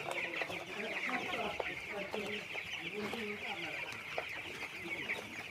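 A flock of 20-day-old broiler chickens clucks steadily and busily, many birds close together in a continuous overlapping chatter from start to finish.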